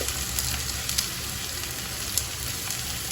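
Onions frying in hot oil for mutton liver fry, giving a steady, dense sizzle that continues without pause, with a few brief crackles and pops across the whole stretch and no voices.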